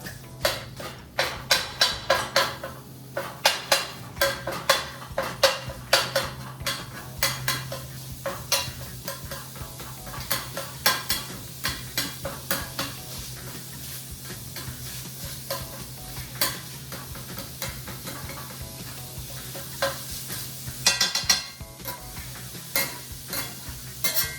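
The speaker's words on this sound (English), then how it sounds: "take your spatula and you wanna cut up the meat into small pieces. Break it up as you cook." Spatula scraping and chopping ground meat in a frying pan for fettuccine with zucchini, rapid clacking strokes over a steady sizzle, busy at first then settling into lighter intermittent scrapes.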